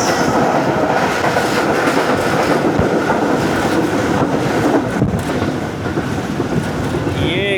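The Pak Business Express passes on a Pakistani rail line, a loud, close, continuous rumble with rhythmic clickety-clack of wheels over the rail joints.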